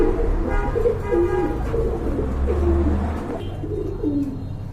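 A pair of khaki pigeons at a pet shop cooing repeatedly, soft throaty phrases close by over a low background hum.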